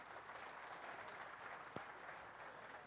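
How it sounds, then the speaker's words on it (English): Audience applause at a talk on hybrid installation of open-graded base with recycled concrete, a steady, fairly quiet wash of many hands clapping throughout, with no voices over it. "Everybody give Rick Bischoff a round of applause, please."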